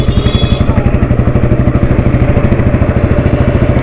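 A vintage Royal Enfield Electra motorcycle idling close by, a loud, even thumping beat that runs steadily throughout with no voices.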